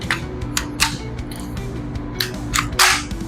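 A UTAS UT9-M Mini firing, a series of sharp close cracks at irregular spacing, several in quick succession with a louder final burst.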